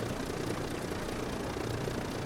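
Twin aircraft engines running steadily in Microsoft Flight Simulator 2020, a continuous low droning hum with even, unbroken loudness throughout; no voices.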